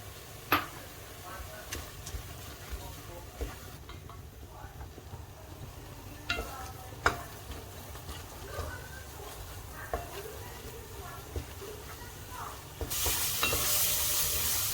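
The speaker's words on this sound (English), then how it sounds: "Bumbunya digongsor sampai baunya harum." Spice paste with bay leaf, cinnamon and clove sautéing in a pan for beef rendang: a quiet sizzle with scattered scrapes and clicks of stirring, swelling into a louder hiss near the end.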